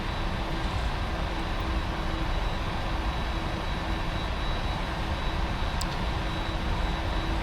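A PMDG 747 heavy jet taxiing in a flight simulator gives off a steady, loud engine drone with a faint high whine, continuous and unchanging throughout, with no talk over it.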